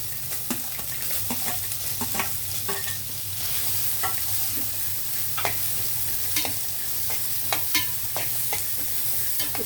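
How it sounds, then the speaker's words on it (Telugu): Onion and carrot frying in a pan for millet kichidi, a steady close sizzle broken by frequent scraping stirs of a spoon against the pan, with no talking. "ఆనియన్ వేసేస్తున్నాను. ఆనియన్ క్యారెట్ కూడా వేసేస్తున్నాను."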